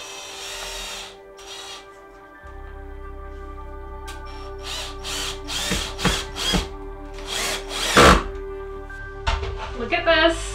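A power tool cuts timber to fit around ceiling framing. Its bursts start and stop, with a low motor hum underneath and some louder, sharper cuts and rattles near the end.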